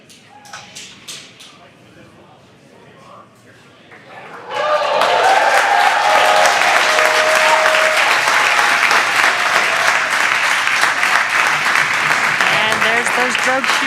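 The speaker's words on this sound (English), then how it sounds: "you can hear the crowd here very excited to see them deploy." Crowd cheering loudly as drogue chutes deploy during the Crew-4 capsule return, a sudden swell of continuous applause and shouting that cuts in after a few seconds of quieter talk and then holds steady.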